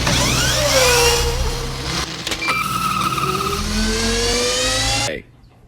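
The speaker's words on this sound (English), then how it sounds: "The RC car has added F1 car sound effects." A toy RC car dubbed with Formula 1 race car sound effects from an animated film screeches and whines through rising and falling engine pitches with tire-squeal sweeps, loud and busy for about five seconds before cutting off abruptly.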